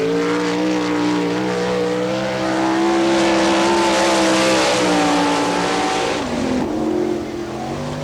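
A sprint car from the 1998 All Stars event in Wichita, Kansas, runs a lap on a dirt track, its engine a loud, sustained howl that climbs in pitch and then drops off sharply near the end.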